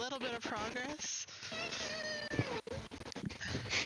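A cat meows repeatedly in a series of rising and falling cries, close and fairly loud, with people talking nearby.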